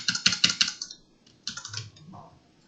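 A quick run of crisp keyboard key presses, then a pause and a few more clicks, close up with no talking.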